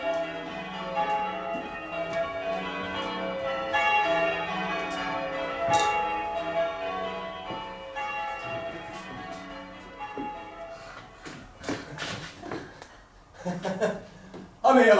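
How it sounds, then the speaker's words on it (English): Church bells ring out in a steady peal for victory, with voices and a bit of laughter rising over them toward the end. "they're ringing the bells for victory"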